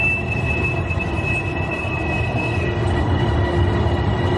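A train at a Bangkok railway station rumbles steadily and loudly throughout, with a high, sustained wheel squeal ringing over the rolling noise.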